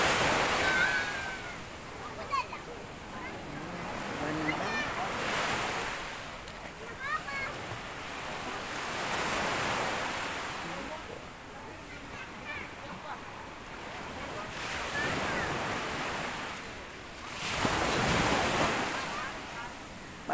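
Ocean waves wash onto a beach in Pangasinan, rising and falling in broad surges every few seconds with steady wind noise on the microphone and a few faint voices in the background.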